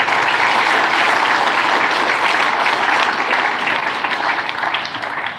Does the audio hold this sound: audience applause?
yes